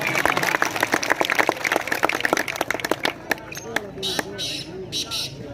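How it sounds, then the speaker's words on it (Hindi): A crowd at a club volleyball match in Dherowal claps in a dense burst of applause for about three seconds, then the clapping thins out as someone speaks over a loudspeaker. "जोरदार ताली होनी चाहिए"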